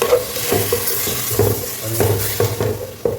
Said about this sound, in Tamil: தண்ணி கொஞ்சம் மிக்ஸ் பண்ணுறது பாருங்கள்.